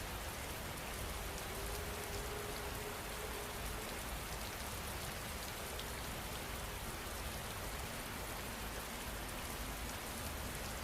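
Steady rain falls without a break, a soft even hiss of drops on surfaces, quiet and continuous, with no voices.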